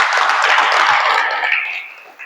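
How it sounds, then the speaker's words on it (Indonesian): An audience in a classroom session claps together, a dense burst of applause that is loud at first and then thins out and fades near the end. "Kasih tepuk tangan semuanya"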